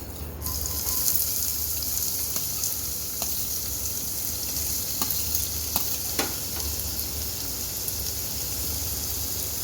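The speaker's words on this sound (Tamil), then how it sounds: "இப்போது இதில் நம்ம சாப் பண்ணி வச்சுருக்கிற ஆனியன் சேர்த்துக்கலாம்." Chopped onions added to hot oil in a pan for a paneer bread toast sandwich sizzle loudly and steadily, with a few clinks and scrapes of stirring and no talking.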